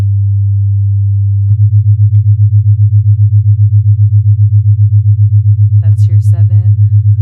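Steady low binaural beat from 100 Hz and 107.5 Hz sine tones built in Logic Pro X, a loud constant hum that begins pulsing rhythmically at about seven beats per second, with brief speech over it near the end.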